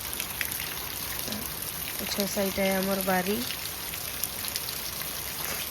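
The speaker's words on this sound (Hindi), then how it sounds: "केते जोर होछे वर्षा।" Heavy rain pours steadily in a broad hiss around a house during the rainy season, with someone talking over it and a brief tonal sound rising in the middle.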